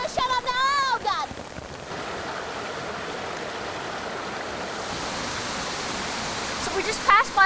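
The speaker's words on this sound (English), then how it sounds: "So this is the waterfall, you see" A waterfall in a gorge in Hubei roars as a steady, broad rushing wash of water, close and loud, after a brief opening exclamation by a man, with faint voices at the end.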